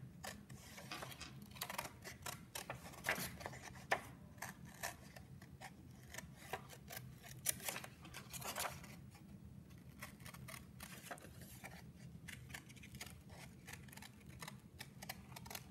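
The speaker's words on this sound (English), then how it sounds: "this is a hard corner, so I can't turn my scissors" Scissors snipping through paper in a classroom art lesson on superhero cutouts, a quick run of small crisp cuts repeating steadily and close, faint against a quiet room.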